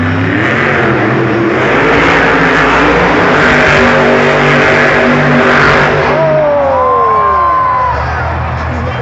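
A monster truck engine revs loudly and continuously while spinning in an arena, a roaring rising engine over crowd noise, with people talking nearby and a squealing sweep near the end.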